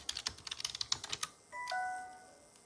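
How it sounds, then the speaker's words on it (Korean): Quick, irregular keystrokes on a computer keyboard during an English vocabulary typing exercise in a Korean digital textbook app, followed by a short chime-like electronic tone as the typing stops. "테스트 3에서는 우리말에 알맞은 영어 단어를 타이핑해 보도록 하겠습니다."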